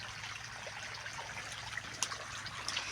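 Irrigation water trickles and gurgles steadily through an orchard, faint and close. A few brief splashes stand out near the end, and no one speaks.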